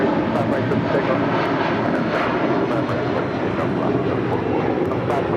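A plane takes off from runway 25 right at LAX. A loud, steady engine roar fills the whole stretch and holds at an even level, with faint voices partly present beneath it.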